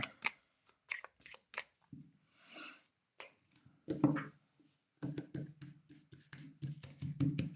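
Tarot cards shuffled by hand, close and fairly quiet: repeated riffles and short flicking bursts, with a soft breathy pause in the middle and no speech.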